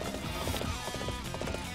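A horse gallops in Dynasty Warriors 8, hooves drumming in a quick, steady clip-clop rhythm, close and continuous under game music.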